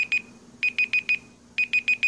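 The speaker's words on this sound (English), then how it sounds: "Okay, Google. Stop the timer." A Google Assistant timer alarm rings in bursts of sharp, bright electronic beeps: two quick tones, a pause, then two repeating runs of four evenly spaced beeps, clear and fairly close in a quiet room.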